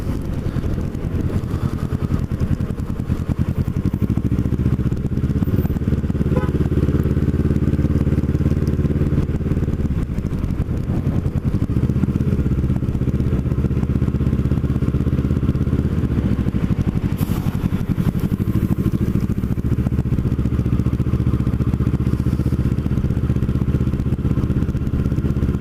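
Motorcycle ride on the road from North Cape May area toward Cape May, with a steady loud engine drone and wind rumble filling the whole stretch, plus occasional clatter and thumps.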